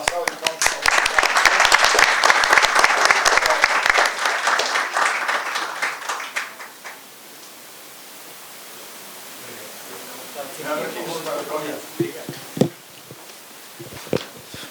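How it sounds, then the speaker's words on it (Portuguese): A conference audience applauds loudly and densely for several seconds, then the clapping thins out and fades into scattered claps and room noise, with a few voices heard near the end. "Uma salva de palmas, por favor."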